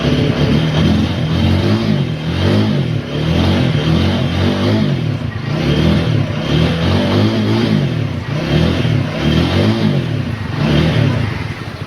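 Motorcycle engine running loudly and steadily after a wash, with a throbbing, slightly clattering idle that rises and falls in rhythmic revs throughout, close to the listener and with no talk over it.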